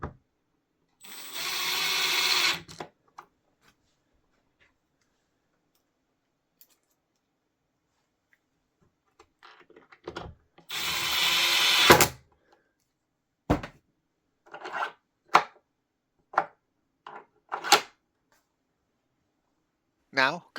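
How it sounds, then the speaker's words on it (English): Screws being driven into a bolt-down locking cleat assembly, heard as two long buzzing bursts of a powered driver separated by a pause, followed by a string of short clicks and taps from handling the parts. "insert 2 screws on the outside most holes"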